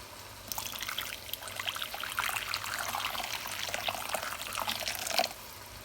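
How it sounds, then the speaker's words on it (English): Hot water trickles and pours steadily into a pot for several seconds, a soft splashing stream, fairly quiet with a faint low hum underneath. "I pour hot water in it."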